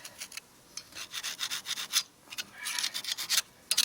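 A screwdriver scrapes rust and dirt along the steel rim of a dually trailer wheel being fitted with a single 4800 lb tire, giving repeated close, rasping strokes in uneven bursts with short pauses between them.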